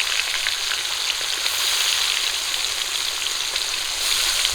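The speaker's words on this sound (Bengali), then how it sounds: "তেল গরম হয়ে গেছে মাছ দিয়ে দিচ্ছি পেটিগুলো আগে ভেজে নেব" Pieces of fish belly frying in hot oil in a village kitchen, a loud, steady crackling sizzle that runs the whole time with no voices over it.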